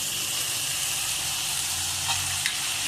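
Drumstick leaves (nugge soppu) fry in a pan with a steady, close hiss of sizzling oil and faint stirring scrapes near the end.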